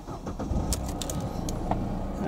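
A Mercedes C-Class W204 car engine cranks and catches close by, a brief start that settles into a steady low idle, with a few light clicks and jangles in the cabin.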